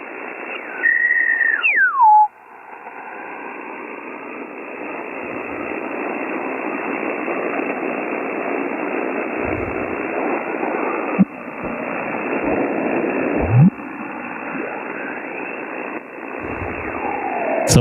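HF amateur radio receiver tuned to an 80 meter net puts out band-limited static hiss, opening with a brief tone sweep and a few later clicks and chirps, steady and fairly loud without clear speech.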